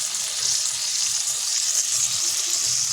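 Boneless chicken breast pieces sizzle in a kadai over a low flame, a steady bright crackling hiss that holds evenly throughout with no talking.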